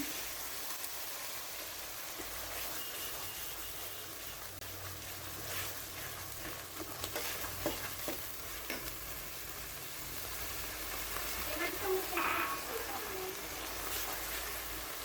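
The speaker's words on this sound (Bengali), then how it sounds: "এখন আমি হাফ কাপ পেঁয়াজ বাটা দিলাম। এর সঙ্গে বেটে রাখা যে মশলাটা দেখিয়েছিলাম ওটা আমি বেটে নিয়েছি, সেটা দিলাম।" Onion paste and ground spice paste fry in a pan with a quiet, steady sizzle. Occasional soft stirring and scraping sounds come through.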